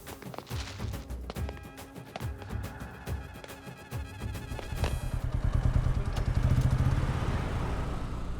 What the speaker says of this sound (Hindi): बंटी बाइक को किक मार।